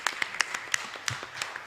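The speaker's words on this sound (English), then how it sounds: "Let's give them a hand clap for that." Small church congregation giving a brief round of scattered hand claps for the musicians, a sparse handful of distinct, fairly close claps over under two seconds.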